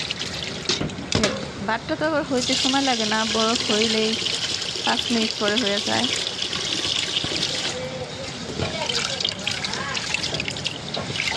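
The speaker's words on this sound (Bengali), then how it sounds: "এখন আমি ভাতের চাল ধুয়ে দিতেছি" Rice is washed with running water in a home kitchen, a steady trickling and splashing stream of tap water that fills the clip, while someone talks over it for most of the time.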